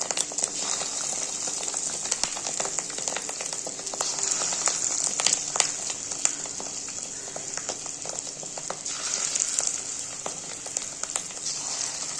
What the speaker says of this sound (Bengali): এইভাবে সবটাই আমি দিয়ে একদম লাল করে ভেজে তুলে নেব বড়াগুলো